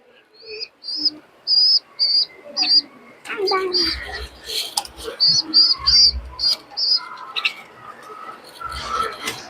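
Pet pigeons and their chicks give repeated close coos and calls in a steady pulsing series while a person talks over them, with some handling noise between calls.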